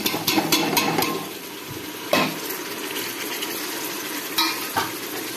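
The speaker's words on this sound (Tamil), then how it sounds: "தக்காளியை போட்டு மிக்ஸ் பண்ணி வச்சுருக்கேன்" Chopped tomatoes are stirred into frying ginger-garlic paste for a village-style chicken biryani, a close, continuous sizzle broken by several sharp spoon scrapes and clinks against the pan.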